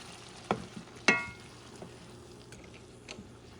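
French wine sauce with black peppercorns cooking in a pan, a faint low sizzle with a couple of sharp clinks of utensil against the pan early on.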